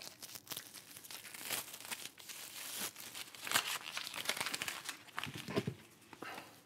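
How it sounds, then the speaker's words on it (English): A water filter is unwrapped from its plastic packaging, giving close, irregular bursts of crinkling and tearing plastic that rise and fall over several seconds, fairly quiet with no talking. "First thing you're gonna wanna do is you're gonna wanna unwrap the filter"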